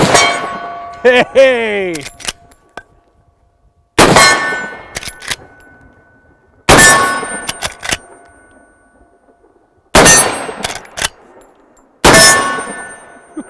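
A Henry X Model 30-30 lever-action rifle fires five loud, widely spaced shots, each followed by the ringing clang of a struck steel target and the clacks of the lever being cycled; one person briefly shouts.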